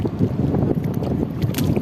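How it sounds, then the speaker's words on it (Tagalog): Strong wind at sea off Panabo City buffets the microphone in a steady, loud roar, with water sloshing against a small boat underneath. "napakalakas ng hangin"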